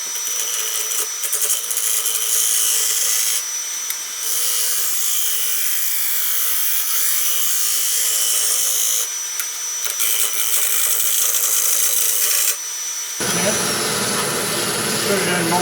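A wood lathe spins a honey locust salad bowl blank, a loud continuous whirring hum with a scraping tool texture that shifts in brief patches, then changes sharply to a rougher, lower tone near the end.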